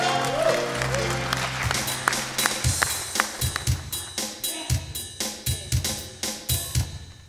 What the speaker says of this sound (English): Please give the group a big round of applause.